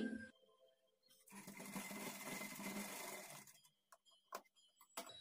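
A sewing machine stitches a blouse strap in a rapid, steady mechanical whir for about two seconds, close by, then stops and is followed by scattered small clicks and handling noises.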